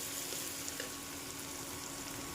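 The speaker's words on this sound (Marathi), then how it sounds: "अद्रक लसणाची पेस्ट टाकून मी थोडंसं परतून घेतलंय" Ginger garlic paste sautés in oil, a faint, even low sizzle held steady throughout with no distinct stirs or voices.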